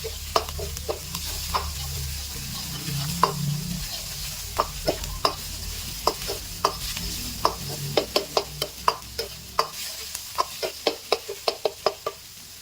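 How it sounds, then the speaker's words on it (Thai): Red curry paste stir-fries in a tablespoon of vegetable oil in a pan for a Thai chu chee prawn curry. A soft sizzle runs under close, repeated taps and scrapes of a spatula that grow quicker and more regular toward the end. "แล้วเราจะผัดให้พริกแกงของเราหอมไปเลยนะครับ"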